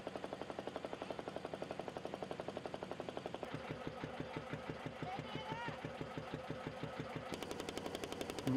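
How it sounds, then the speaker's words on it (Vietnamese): A fishing boat's engine chugs steadily as the boat pulls away from shore, a dense rapid pulsing throb that shifts to a lower, heavier rhythm partway through and stays loud throughout. "Máy nổ, tàu từ từ tiến ra khỏi bờ."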